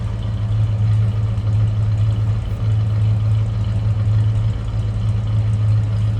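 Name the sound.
1978 Chrysler Cordoba engine idling through dual exhaust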